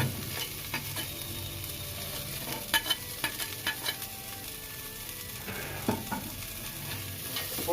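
Chopped carrots, beans and capsicum fry in a pan, giving a steady sizzle. Scattered sharper scrapes and clicks from stirring come through across the stretch, with no talking.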